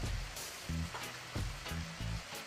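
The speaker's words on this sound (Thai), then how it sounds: "ใบกะเพราที่เราล้างเด็ดไว้แล้วนะครับ ใส่มันลงไปครับ" Washed holy basil leaves tossed into a sizzling Thai stir-fry: a constant hot hiss of frying punctuated by four or five sharp scraping stirs of the spatula in a steady rhythm, close and clear without speech.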